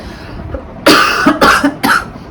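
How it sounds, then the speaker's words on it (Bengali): A person coughing close by in three loud, harsh bursts: one long fit followed by two shorter ones, with quiet moments between them. "সরি আমারও তো কাশি"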